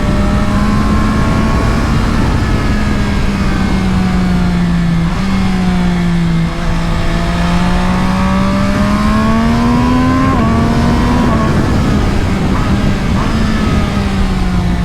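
An MV Agusta Brutale Dragster 800 RR engine roars loudly up close, its pitch climbing and dipping through several quick-shifter gear changes as it accelerates hard.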